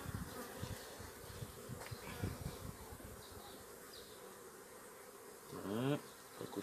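Honeybees buzz steadily at a freshly opened beehive during a first spring inspection, a dense, close insect drone throughout with a brief louder swell near the end.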